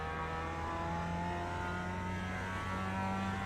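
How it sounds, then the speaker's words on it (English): A car engine hangs at high revs with a stuck accelerator, a steady sustained drone with fixed harmonic tones that never drops, heard faintly from inside the car with no talking. "I'm having accelerator freezes, and then because the revs won't drop, I can't get it down into the lower gear"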